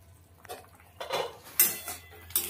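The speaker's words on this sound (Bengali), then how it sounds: "এবার ঢাকনাটা খুলে নেব।" Lid lifted off a pot of simmering tengra fish curry with potato and eggplant, giving a few sharp metallic clinks and scrapes, close and fairly quiet.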